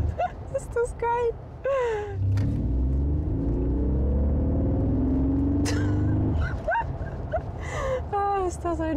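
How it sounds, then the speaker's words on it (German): A Mercedes G 580 EQ electric G-Class plays its G-Roar V8-style synthetic engine sound in sport mode, a deep rising rumble lasting several seconds, framed by excited voices talking before and after. "also es nennt sich G-Roar, so ein bisschen so ein V8-Sound, den kann man sich hier einstellen"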